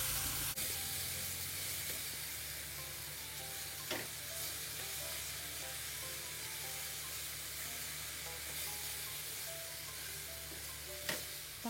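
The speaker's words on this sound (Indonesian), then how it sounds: "Ini ditumis sampai bumbunya matang." Spice paste with bay leaves and lemongrass sautéing in a pan, a steady close sizzle and hiss with a few faint clinks of stirring, no voices.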